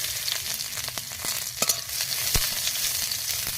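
Cumin and onion fry in hot oil with a bright, crackling sizzle, punctuated by clinks and scrapes as the pan is stirred.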